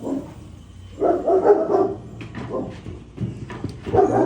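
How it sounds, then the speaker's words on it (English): A dog barks repeatedly near a backyard smoker where chicken wings are cooking, in short irregular bursts with a few whimpers mixed in, loud and close. "The dog's barking like crazy."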